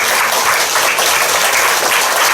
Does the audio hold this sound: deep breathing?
no